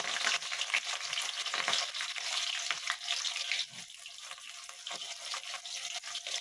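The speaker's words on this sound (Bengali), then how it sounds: "এবার আমি তেলে পেঁয়াজ কুচিটা দিয়ে দেবো।" Chopped onions frying in hot oil in a pan for a chicken dish, giving a loud, steady, close sizzle that eases slightly partway through, with no talking.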